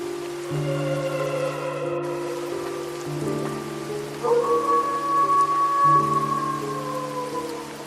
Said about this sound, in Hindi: बारिश भी तेज हो रही है